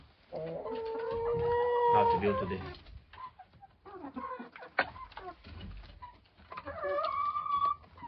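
A flock of village chickens clucks and calls while eating grain and barley at dusk, with a rooster among them; close, busy clucking comes in bursts with pauses, and a person speaks briefly over the birds.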